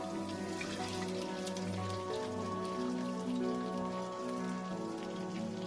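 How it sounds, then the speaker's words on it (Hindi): Milk is poured into a pan of fried rice for sweet mutanjan rice and sizzles, a steady, dense crackling hiss that stays even throughout with no one speaking. "हमने जो 1 कटोरी दूध लिया था वो इसमें ऐड करेंगे।"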